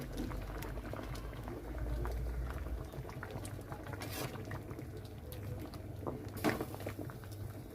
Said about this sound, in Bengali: আলুগুলো কড়াইতে দেওয়ার পরে দেখবেন এরকম টকবক করে ফুটছে